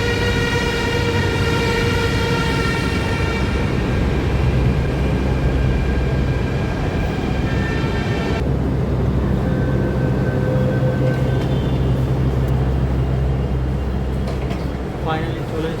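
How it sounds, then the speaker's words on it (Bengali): A metro train pulls into a station platform in Delhi, a loud steady rumble with sustained harmonic whine and rolling wheel noise throughout, the pitch shifting midway as it slows, close and continuous. "তো ওই দেখো আর ওই মেট্রো আসছে"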